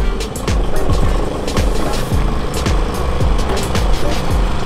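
A loud lawn mower engine runs close by with a rapid, rhythmic chugging roar that stays strong throughout.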